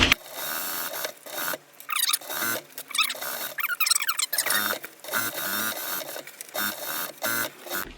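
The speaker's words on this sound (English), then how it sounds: "I'm just going to sew all the way around." A sewing machine stitches fabric around the rim of a small-animal basket bed, running close and loud in repeated bursts of mechanical whirring with brief pauses between runs.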